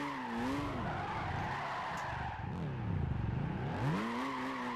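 Car tyres squealing and skidding in Gran Turismo 5 as a car spins out while drifting in third gear, the loud wavering screech rising and falling continuously over engine drone with no talk.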